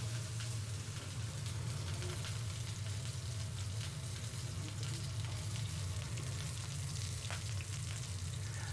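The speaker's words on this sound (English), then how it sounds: "Add the ginger and the garlic to the pan and stir fry them together" Steady sizzling of red peppers with ginger and garlic being stir-fried in a pan, a continuous close crackle with faint scraping of stirring throughout and no talking.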